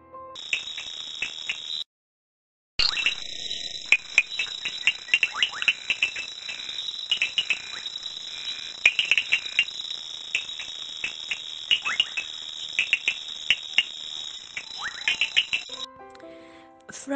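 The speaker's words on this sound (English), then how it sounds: "Have you ever heard the tinker-reed frog's call?" Tinker reed frog calling in a steady chorus, a continuous high ringing tone with rapid metallic ticking notes over it, moderately loud and sustained, broken by one short silence.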